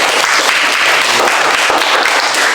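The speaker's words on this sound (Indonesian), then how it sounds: "Tepuk tangan untuk kita semua dulu" A classroom of students bursts into steady, dense applause together, loud and close, filling the whole stretch without pause.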